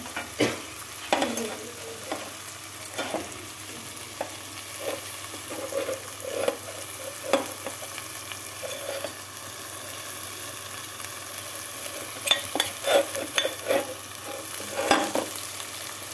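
Ginger and coriander powder frying in a pan for a broad bean curry, a steady sizzle under repeated scraping and stirring strokes, with a burst of louder stirring near the end.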